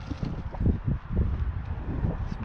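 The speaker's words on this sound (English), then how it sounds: "It's blowing with the gust right now." Strong, gusty wind buffets the microphone outdoors in a dense, rumbling roar that swells and dips with each gust, with no voices.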